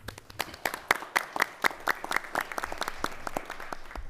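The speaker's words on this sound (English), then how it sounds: "Please give her a round of applause." A school board meeting audience gives a young student a welcoming round of applause: sparse, fairly close individual claps in an uneven rhythm that thin out over four seconds.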